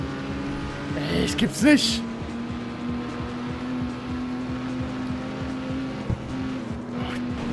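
Race cars in CarX Street, a street racing game, with engines droning steadily at high revs, a squealing swell of tires around the second second, and a sharp knock later; someone speaks briefly in German over the engines.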